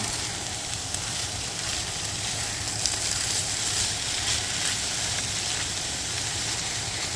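Cilantro lime cauliflower rice sizzling in a hot skillet, an even, continuous crackling sizzle at moderate level, close and unbroken, with no voices.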